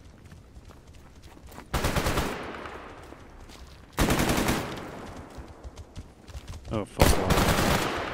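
Bursts of automatic gunfire from Stalker GAMMA, several loud sustained volleys crackling at intervals with quieter shots between, while someone speaks briefly under the shooting.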